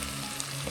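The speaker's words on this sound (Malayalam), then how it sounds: "ഉടയുന്നത് വരെ നമുക്ക് ലോ ഫ്ലെയിമിൽ ഒന്ന് അടച്ച് വെച്ച് വേവിച്ചെടുക്കാം" Chopped tomatoes cook in a covered pan over a low flame with a soft, steady sizzle and faint crackle, heard alone without speech.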